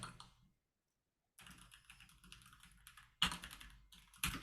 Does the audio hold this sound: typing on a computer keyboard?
yes